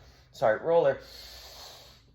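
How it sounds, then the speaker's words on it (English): Two forceful, close breaths, a sharp snort-like intake and then a longer exhale, come from a person doing a thoracic spinal mobility exercise on a foam roller, followed by near silence. "Breathing with every repetition."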